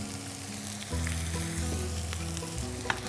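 Chopped garlic, carrots and cabbage fry in ghee with a loud, steady sizzle close up, a pan hum underneath and a brief stirring clink near the end.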